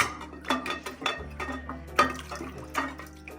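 A Spam musubi mold is wetted with water, with splashes, drips and light clinks of the mold against a dish coming in irregular close bursts.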